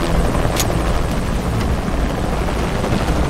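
A helicopter in the video game Shadow of the Tomb Raider gives off a loud continuous rotor and engine roar with a dense rumbling wash. It stays steady throughout and sounds close, with no speech over it.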